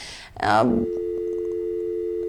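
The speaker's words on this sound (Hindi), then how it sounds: "कॉल जो है वो डिस्कनेक्ट हो गया है।" A telephone busy tone sounds after a caller's line drops during a live call-in broadcast: a short burst of warbling sound, then a steady, unbroken electronic tone that carries on to the end.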